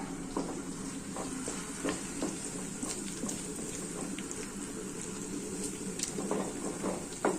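Peas are dry-roasted in a pan without oil, making a continuous soft crackle and patter broken by scattered light ticks and rustles as they shift, close up and steady throughout.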